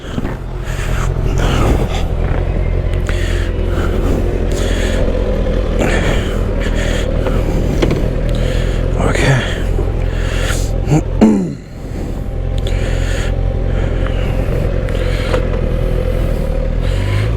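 Kawasaki ZX-6R 636, a 2024 sport motorcycle, being ridden: a loud, continuous engine drone with wind roar, rising and falling revs through gear changes, and a brief dip and surge partway through.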